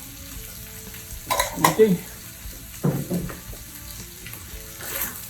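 Corn with pimentos frying and being stirred in a pan, a soft steady sizzle under bursts of scraping stir strokes, with a brief spoken word over the cooking.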